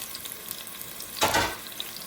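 Chopped onion tipped into a pan, a quiet background that suddenly bursts into a short, loud hiss of frying lasting under half a second before settling back down.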